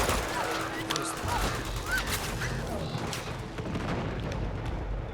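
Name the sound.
gunfire in the Uncharted 2: Among Thieves video game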